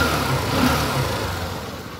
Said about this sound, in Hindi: तो देख सकते हो बाइक अच्छी तरह से स्टार्ट हो चुकी है